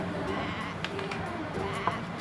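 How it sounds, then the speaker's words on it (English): Sheep bleat in a nursery-rhyme song about a farm, short bleats rising briefly over steady background sound. "And on his farm he had some sheep."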